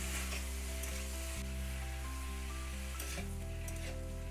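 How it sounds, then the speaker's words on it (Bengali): Vegetables stirred and frying in spices in a pan give a steady, close sizzle with scraping stir strokes and a constant background hum, no voices. "এবার সবজিগুলো দিয়ে দেবো, করে নাড়ি চাড়ি নিতে হবে"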